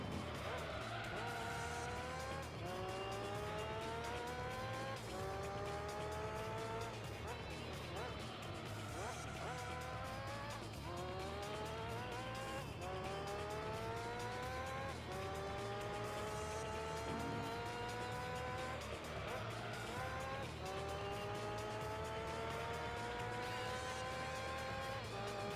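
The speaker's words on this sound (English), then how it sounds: "You could hear the wheels locking." Race car tyres locking and squealing in Gran Turismo 3, heard over a constantly revving engine whose pitch climbs repeatedly through gear changes, with brief screeching skids mixed into the continuous motor drone.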